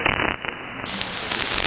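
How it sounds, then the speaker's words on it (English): Steady broadband crackling static on a shortwave AM broadcast, caused by thunderstorm activity in South Florida, continuous and fairly loud through the whole stretch with no voices. "the crackling sound you hear is because"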